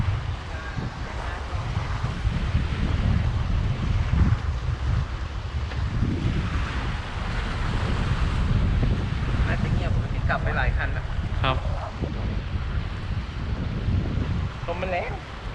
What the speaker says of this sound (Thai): ลมมันแรง เนาะ